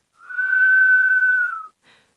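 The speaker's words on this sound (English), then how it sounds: "A whistle is a high sound made by blowing air through your lips." One steady, high whistle made by blowing air through the lips, held clear and close for about a second and a half, then a faint short trailing note after it.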